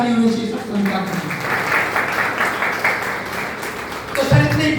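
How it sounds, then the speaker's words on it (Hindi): A seminar audience breaks into loud, sustained applause that fills the hall, with a speaker's voice briefly audible at the start and again at the end. "तो एक बार जोरदार ताली होनी चाहिए सब संस्था के।"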